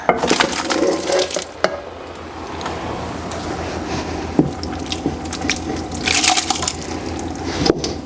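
Pasta and saved pasta water being poured into a sauce, a steady watery splashing and sloshing with a few clunks of a pot or pan, fairly loud and close.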